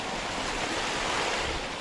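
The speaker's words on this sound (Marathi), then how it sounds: "आपण आता या वरतून येणाऱ्या छोट्याशा धबधब्यामधून वाट काढत वरती चढतोय" A small waterfall flows down the trail on the Chanderi Fort trek, giving a steady, dense rushing of water that fills the whole moment with no breaks.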